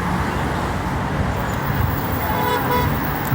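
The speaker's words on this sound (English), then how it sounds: "I don't know why they just honked at me." A car horn toots in busy street traffic over a steady roar of passing vehicles, the honks short and moderately distant, with no talking.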